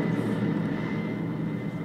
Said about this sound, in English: So the helicopter is about to take off.